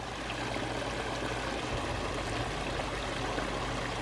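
Water pours steadily down a backyard pondless waterfall, a constant close splashing rush with no break and no voices.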